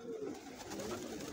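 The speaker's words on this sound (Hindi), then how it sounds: "ये वाला दोस्तों नया कबूतर है" A pigeon cooing softly, a short low murmuring call heard close but faint, with no voices.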